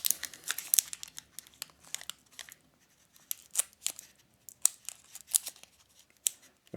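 A Cadbury Dairy Milk 30% Less Sugar chocolate wrapper is peeled and torn open nearby, giving quiet, irregular crinkles and sharp tearing rips in short bursts.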